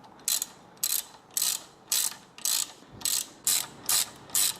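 A tap wrench turns a tap to cut a thread in metal, giving nine evenly spaced ratcheting clicks about half a second apart, crisp and close with no talk.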